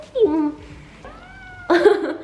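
A cat meows close by, giving two or three distinct, drawn-out calls with short gaps between them.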